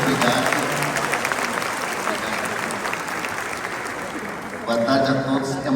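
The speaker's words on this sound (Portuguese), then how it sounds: "receba as nossas salvas de palmas" An audience applauds steadily throughout a welcome for a speaker, dense clapping that swells slightly louder near the end.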